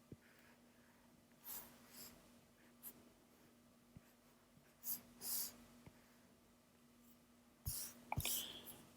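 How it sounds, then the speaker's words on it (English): Pen or marker strokes drawing the feet of a cartoon monster on paper, soft scratchy bursts scattered through the quiet with brief gaps, close and faint, no talking. "I'll go ahead and draw on the feet"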